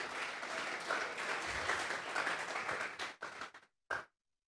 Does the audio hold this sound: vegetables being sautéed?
no